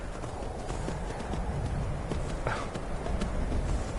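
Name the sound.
horse hooves clip-clopping in video game Skyrim VR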